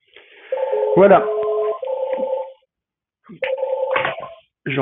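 Keypad dialing tones on a 3CX phone system call, sounding as a run of clear, close electronic beeps in two bursts separated by a short silence, with brief clicks and a voice fragment at the end.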